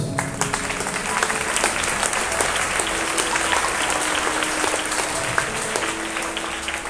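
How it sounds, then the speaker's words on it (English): A school assembly audience claps steadily and loudly for a Class 6A presentation on nature, the dense applause holding unbroken for about seven seconds. "Let's give them a thunderous applause."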